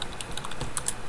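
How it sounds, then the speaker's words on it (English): Username and password typed on a computer keyboard, a quick run of soft, close key clicks at an uneven rhythm with no voices. "Then type in the username and password that I sent to you."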